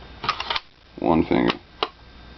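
A bolt-action rifle, a Weatherby Vanguard or Ruger M77 MKII, has its bolt worked open, giving a quick cluster of close, sharp metallic clicks, then a single click later; a brief voice is heard between them.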